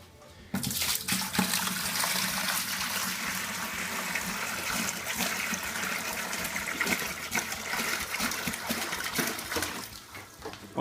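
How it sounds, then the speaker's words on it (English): A few liters of cold water pour steadily and forcefully into a bucket, a continuous splashing rush that runs for several seconds before tapering off. "we'll just put a few liters of cold water into this bucket."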